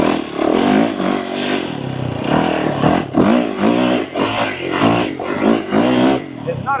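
A Yamaha YZ450FX dirt bike engine on a trail ride, revving up and down in repeated surges close to the mic, with a rider talking over it.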